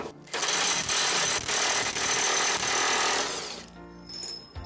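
Narex ASR 600 impact wrench loosening bolts on heavy machinery, a loud continuous hammering rattle for about four seconds, close and alone, then cutting off.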